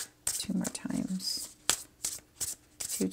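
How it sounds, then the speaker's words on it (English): Tarot cards are shuffled in quick bursts of riffling, close and crisp, with brief pauses between passes and a voice speaking softly. "I'll shuffle two more times."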